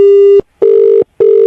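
Telephone call-waiting tone of three steady beeps with short gaps between them, loud and close on the line, with no voices.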